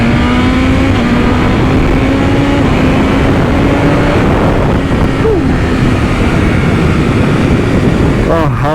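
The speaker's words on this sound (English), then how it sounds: "the temptation of rolling it on and just twisting the throttle is just too much" A BMW M1000RR superbike's engine drones loud and steady as the throttle is held open, its pitch climbing slowly and then easing off, constant and close throughout.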